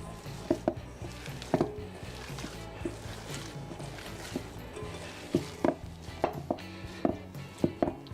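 Sausage meat being worked by hand with seasoning in a bowl, soft squelching and dull thumps coming in irregular bursts, close and quiet, with no talking.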